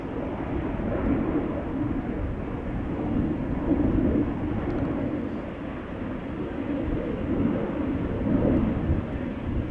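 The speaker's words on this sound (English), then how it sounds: "Little Embraer just took off from center. Embraer 190." An Embraer 190 jet takes off at Amsterdam Schiphol, a steady broad engine roar rumbling loud and close for the whole stretch, swelling slightly at moments with no voices over it.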